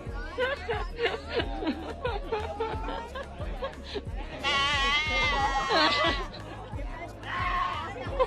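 A young goat caught by staff in a scenic area gives repeated high, wavering bleats, loud and close, with people chattering and laughing around it.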